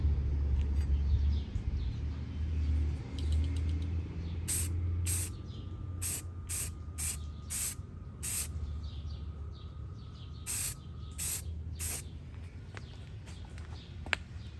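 Truck bed liner sprayed onto a camper frame in short, quick hissing bursts, a dozen or so sharp, separate passes with pauses between, over a low steady background rumble.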